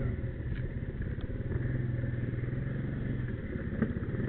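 A small 50cc four-stroke ATV engine with carburetor trouble idles and putters close by in a steady, rough, low chug, with no voices heard.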